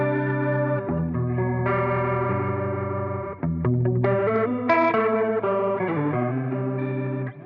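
Electric guitar run through a Dimension D-style chorus unit in a studio gear setup, playing sustained chords and picked notes with a lush, shimmering modulated tone, continuous and up close with no talking.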